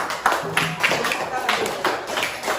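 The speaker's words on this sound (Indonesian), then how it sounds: "Kita tepuk tangan." A primary school class claps hands after a Quran recitation, several short bursts of clapping rising and falling amid classroom chatter and voices.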